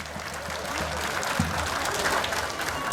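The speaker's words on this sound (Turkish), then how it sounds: "Şile Belediye Başkanım Sayın İlhan Ocaklı Er Meydanımızda coşkuyla alkışlıyor" At a traditional Turkish oil wrestling event in Şile, a large outdoor crowd claps in a steady, even wash, with a brief announcer-like voice and low rumble underneath.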